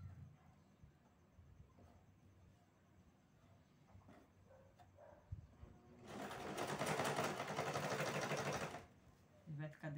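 A sewing machine stitching bias binding around a fabric charger plate cover runs in one steady, loud burst of about three seconds, close by, after a quieter stretch with soft handling noises and someone talking in Portuguese.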